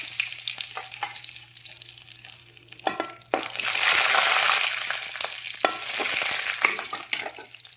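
Curry leaves dropped into hot oil with popped mustard seeds, frying with a loud steady sizzle that swells midway, with a few stirring scrapes, no talk.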